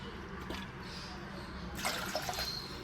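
Water is poured onto sugar in a cooking pan to make syrup for suji halwa, a faint watery trickle that swells into a brighter splashing burst near the end.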